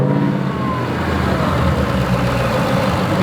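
A 2019 Ford Mustang GT fitted with a supercharger runs loud and close, its engine held at a steady rev with a constant low roar and a thin blower whine riding above it, no talk over it.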